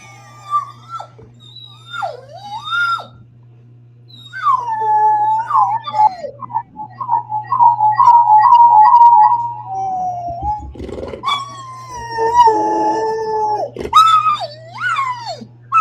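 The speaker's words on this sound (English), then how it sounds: "we will get Buster to howl within 30 seconds" A dog howls loudly and close in long, wavering, rising and falling cries over a steady low electrical hum, with pauses between bursts and a few harsher, noisier howls toward the end.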